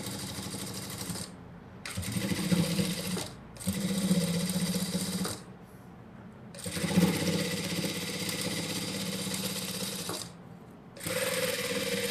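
Sewing machine stitching a blouse back piece, running in several bursts of steady mechanical whirring separated by short pauses, close and fairly loud with no talking.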